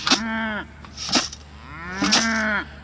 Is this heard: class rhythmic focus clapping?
no